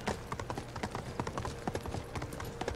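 Rapid clip-clop of horse hooves galloping across open ground in Ghost of Tsushima, a steady close rhythmic drumming that continues throughout with no talking over it.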